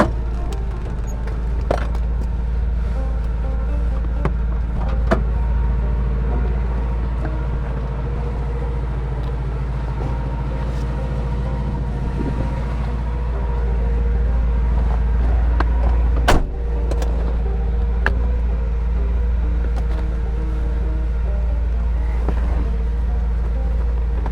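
A 1963 Chevrolet Impala two-door rolls along with a loud steady low engine drone and road rumble from inside the car, plus occasional clicks and rattles.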